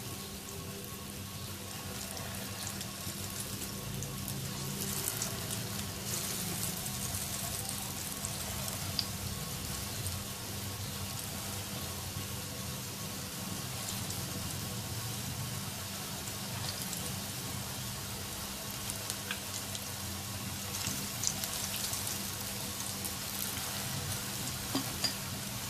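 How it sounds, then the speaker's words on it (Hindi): Phulkis deep frying in medium-hot oil for Ramzan iftar chaat, a steady dense sizzle and crackle of bubbling oil that runs without pause at an even level throughout, with no talking. "दरमियानी आंच पे ये फुल्कियाँ फ्राई करेंगे।"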